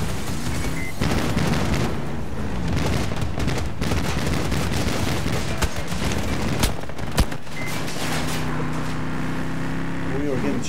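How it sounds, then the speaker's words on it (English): Gunfire in the Battlefield 2042 video game during a Domination match on Manifest, dense bursts of shots and rattling fire with booms and a vehicle rumble, loud and continuous, with players talking over it. "We were getting shot."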